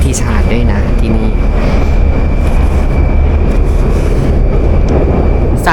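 A Moscow metro subway train rumbles loudly and steadily throughout, with continuous low-frequency roar and rail noise filling the carriage, and faint talk mixed under it.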